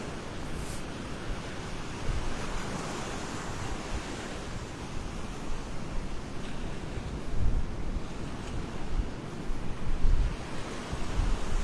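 Strong wind blows across the beach at Delnor-Wiggins, a loud, constant rumbling buffet with gusts swelling in the second half over a faint wash of surf.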